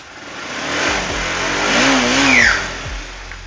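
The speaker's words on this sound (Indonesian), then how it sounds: "Oke, masih halus, nyaris tak terdengar, geber ya." A 2015 Honda CBR motorcycle engine revs up, its pitch climbing and falling over a few seconds, loud and close, with no talking.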